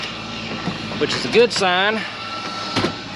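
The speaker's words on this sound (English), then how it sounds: "That is the vac on the planter running," Vacuum fan on a corn planter runs as a steady mechanical whir in the background, while someone talks over it close by.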